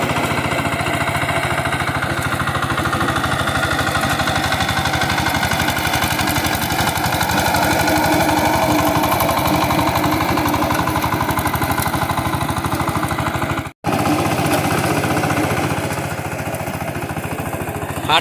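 A tractor puddling a muddy paddy field for rice planting in Konkan, its engine running in a loud, steady, close drone with a rapid rhythmic chug, broken only by a brief dropout near the end.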